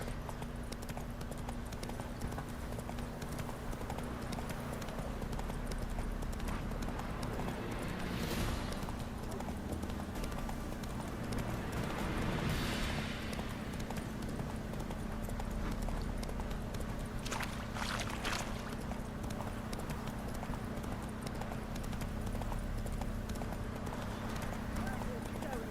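A horse gallops in The Witcher 3 with steady hoofbeats under a continuous game soundscape, while a voice talks over it.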